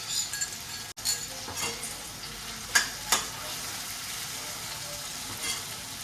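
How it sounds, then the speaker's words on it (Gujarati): Okra with garlic frying in a hot pan gives a steady sizzle, with a few sharp clinks and scrapes of stirring scattered through, heard alone without talk. "એ રીતે થોડાક એને ફ્રાય કરી લેવાના એટલે શું ચીકણાનું થઈ જાય."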